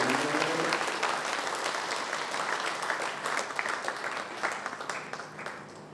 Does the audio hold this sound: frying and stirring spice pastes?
no